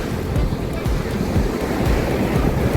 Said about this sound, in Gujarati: આમ એટલા મોજા ઊંચા આવે છે ને